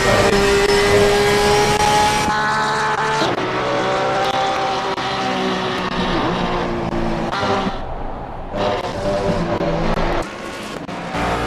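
GT3 race cars in a sim racing game, including a BMW, roar loudly with high revving engines and shifting pitch, dipping briefly as one car eases off before the engine note climbs back up.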